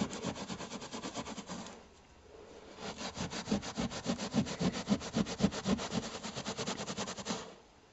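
A brush scrubs a gallium stain out of carpet in quick back-and-forth strokes, a close, fairly quiet rasping rub with a brief pause before the scrubbing resumes faster.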